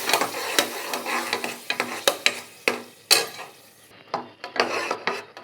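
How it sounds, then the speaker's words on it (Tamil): Ground onion and tomato paste sautéed in a pan for a cauliflower kurma, with a steady soft sizzle and repeated close scraping stirs of a spoon against the pan, no voices. "இப்படி நம்ம நல்லா கொஞ்சம் வதக்கி விட்டுடுவோம்."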